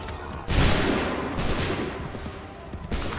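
Musket volleys in Assassin's Creed 3, with three loud massed bursts of fire at regular intervals, each crackling and then fading into a rolling echo.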